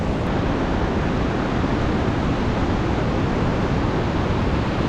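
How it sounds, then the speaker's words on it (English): A Himalayan river along the Goechala trek in Sikkim rushes in a steady, dense roar, loud and continuous throughout with no voices. "You can hear the sound of the water gushing and how soothing it is."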